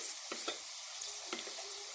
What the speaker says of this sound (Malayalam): ഇനി ഇതൊന്ന് തിളക്കട്ടെ